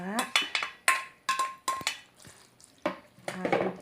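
A spoon stirring grated coconut, sugar and boiled pearls in a bowl for Indonesian awug mutiara: a series of sharp clinking scrapes against the dish, irregular and close, with short pauses between strokes.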